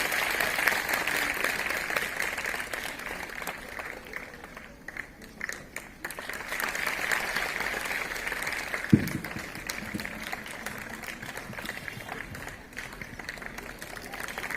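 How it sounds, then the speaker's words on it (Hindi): Audience clapping at a women's empowerment event in India, a moderate, fairly distant patter that keeps going throughout, with a single sharp knock near the middle. "तालियां भाई बजाते रहो तुम।"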